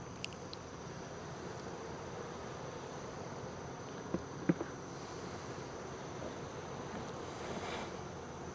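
Honeybees buzz steadily around an open beehive during an outdoor inspection, a soft continuous insect hum with a few brief louder passes near the microphone.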